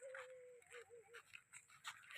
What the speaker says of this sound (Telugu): కుక్కలైతే ఏడుస్తూ మొరుగుతున్నాయి